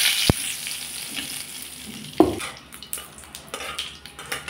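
Cumin seeds and two bay leaves hit hot oil left from frying eggs: a sharp clatter, then a loud burst of sizzling that settles into steady crackle with spoon and pan knocks.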